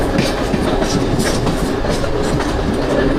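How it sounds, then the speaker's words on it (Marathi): A Central line Mumbai local train rushes past on a parallel track, a loud, close, continuous roar with rapid clickety-clack from the wheels. "पॅरलल ट्रेन ही सेंट्रल लाईन ट्रेन आलेली आहे."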